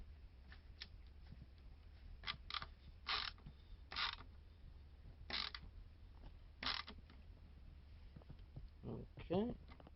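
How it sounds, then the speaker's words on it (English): A screwdriver turns screws while an arcade cabinet kit for Raspberry Pi is assembled, producing a series of short creaking squeaks and ratcheting clicks, close and fairly quiet, with someone speaking at times. "now a screwdriver"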